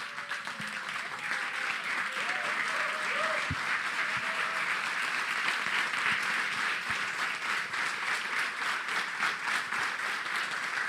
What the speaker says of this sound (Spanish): le das un fuerte aplauso a Jesús